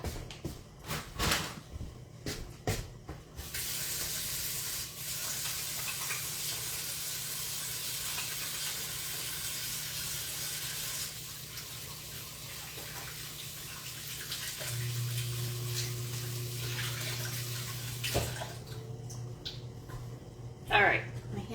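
Hands washed under a running tap while preparing shrimp saganaki, a steady rushing hiss of water lasting several seconds with clattering before it and voices around it.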